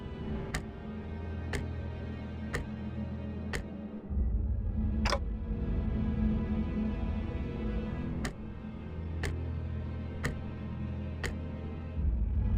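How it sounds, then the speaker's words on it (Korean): A creature's head ticks in the Limbus Company game, sharp clock-like clicks about once a second that pause briefly midway, over a low droning ambient hum with no talk. "째깍거리는 소리만 들리네."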